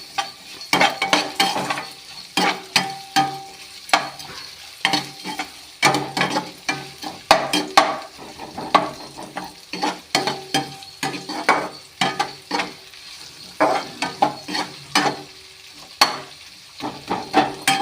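Onions sauté in hot oil for a Tamil potato poriyal, a constant sizzle under a rapid, rhythmic series of spoon scrapes against the pan, close and clear throughout.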